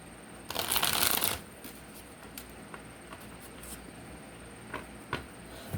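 Tarot cards are riffled and shuffled in a quick burst of crisp fluttering. A few faint taps and light card handling follow in a quiet room.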